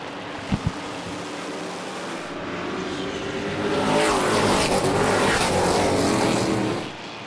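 Race cars at Midvale Speedway on a championship night roar past under green-flag racing, the engine noise swelling from a distant drone to a loud, sustained pass before fading.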